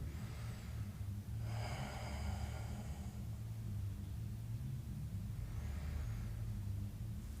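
Slow, deep breaths held in a yoga hip pose: two long, soft airy breaths close by, spaced a few seconds apart over a low steady hum.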